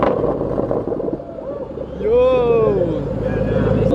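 A Shelby GT500 fitted with Corsa Extreme axle-back exhausts gives a loud, deep rumble up close. It swells into a rev that rises and falls, with voices talking over it.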